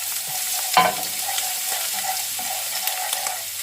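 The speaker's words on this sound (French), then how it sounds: "On fait chauffer de l'huile dans notre wok, de l'huile neutre. On met l'ail et le gingembre." Garlic and ginger hit hot neutral oil in a wok and sizzle loudly and steadily. One sharp stirring scrape comes early, with no voices.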